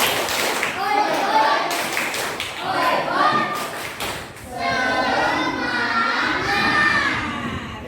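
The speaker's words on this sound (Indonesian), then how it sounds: "mari kita tepuk semangat dulu" A class of young children performs a rhythmic clapping chant led by their teacher, voices shouting the lines together in bursts punctuated by sharp unison claps, close and lively with pauses between phrases.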